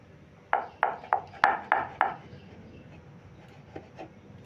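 Goja dough being cut into shapes, six quick crisp knife taps in an even rhythm against a board, then a pause and two fainter taps, close and clear with no talk.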